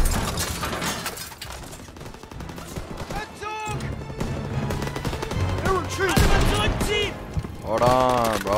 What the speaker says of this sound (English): Let me shoot them all.